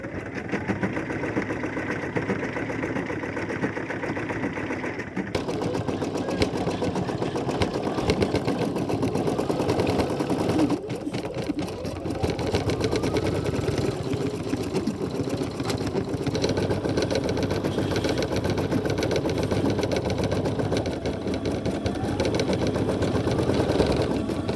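A hat clamped in a hat hoop is stitched by an embroidery machine, a fast steady mechanical whir with rapid needle chatter. It runs close and continuously, with small shifts in pitch and texture as the stitching goes on.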